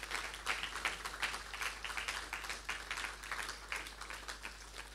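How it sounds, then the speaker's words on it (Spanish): A church congregation claps steadily in a dense, even round of applause at a sermon, moderately loud and continuous for several seconds without pause. "Dan un aplauso a Dios por esto."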